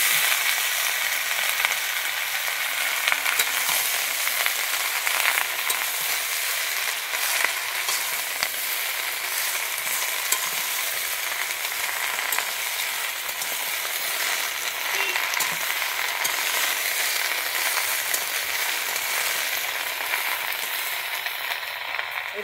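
Chopped vegetables, added to a pan of fried shrimp for a Bengali pui shaak dish, sizzle and fry in a steady, dense crackle that holds even and fairly loud throughout, with no talking.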